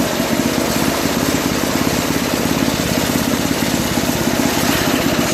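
A Tecumseh engine on an old Toro 521 two-stage snowblower runs at low throttle, a steady, close, uninterrupted chugging drone with no talk.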